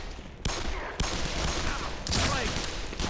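Rapid gunfire in the Black Mesa video game, dense continuous volleys with sharp bursts of shots and a voice briefly underneath, loud and close throughout.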